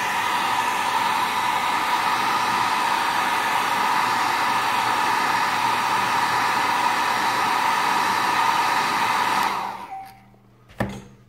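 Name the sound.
hair dryer blowing on model car decals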